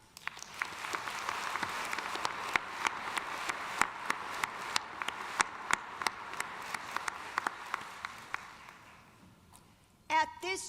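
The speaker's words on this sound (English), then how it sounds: "Let's join together in applause for each other." Applause fills Gentile Arena at a 2022 Jesuit Catholic university commencement, a broad sustained roar of many hands with sharper individual claps that fades out near the end before a voice resumes speaking.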